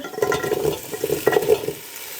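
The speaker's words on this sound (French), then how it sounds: "Je viens rajouter mes carottes" Carrots go into a pot of garlic, ginger and potatoes for a carrot soup, bringing a short burst of close stirring and scraping over a soft sizzle, then quieting, with no voices.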